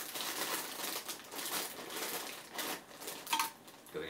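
Crinkly plastic wrapping of a Pop-Tarts Bites cereal package being worked open, a near, busy rustle of crackles running steadily throughout with a brief sharper snap near the end.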